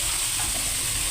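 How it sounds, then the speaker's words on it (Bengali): Grated carrot frying in ghee for a carrot sweet, with a steady, close hiss and crackle of the pan that holds even throughout without any talk. "গাজরটা আমার ভালোভাবে ভাজা শেষ হলো ঘিয়ের ভিতরে"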